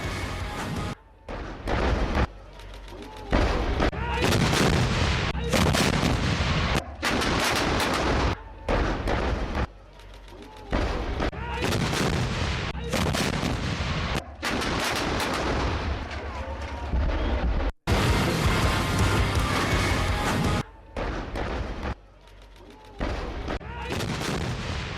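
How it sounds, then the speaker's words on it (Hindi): An army artillery regiment fires shells during an exercise, with repeated heavy booms and blasts following one another in quick, irregular succession, loud and reverberant throughout. "अभ्यास के दौरान तोपखानों से दागे गए गोले,"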